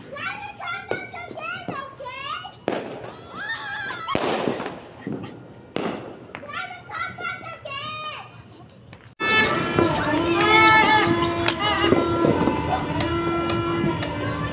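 Fireworks bursting over a rooftop at a New Year celebration, sharp crackling pops scattered through the first half, then a dense loud barrage of bangs and crackle, with children and adults talking and shouting throughout.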